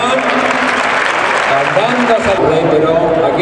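A crowd at a bullfight with recortadores breaks into a sustained, dense ovation of clapping, with a voice talking over the applause.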